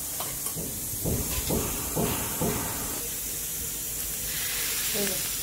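Very hot oil poured into a dough mixture, a loud broad hiss and sizzle at close range with several rhythmic pulses, fading to a softer steady sizzle, with a voice talking over it.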